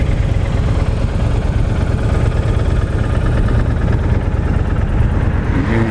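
A 2007 Honda VTX1300R motorcycle with about 32,900 miles idles steadily and smoothly, a loud, close, continuous low engine rumble with no talking.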